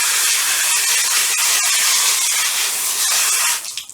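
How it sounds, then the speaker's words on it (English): Water sprays hard over a tire cleaning brush as it is rinsed, making a loud, steady, close hiss that holds evenly for several seconds before cutting off abruptly. "I'm going to rinse it"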